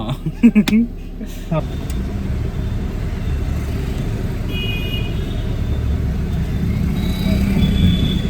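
A car driven by a learner driver rumbles steadily from inside the cabin, with a few brief knocks at the start and the drone rising slightly toward the end.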